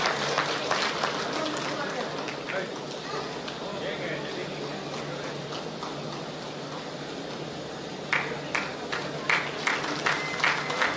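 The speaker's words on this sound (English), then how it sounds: "Can we all give a huge round of applause" Audience applause fills an EV expo hall, a steady dense patter of clapping that runs the whole time and swells slightly near the end, with a voice heard over it.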